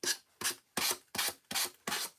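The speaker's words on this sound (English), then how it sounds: "Use sandpaper and go in a downward motion" Sandpaper rasps along an edge in six quick, evenly spaced downward strokes, each a close, crisp scratchy rub with short pauses between, steady rhythm and no voices.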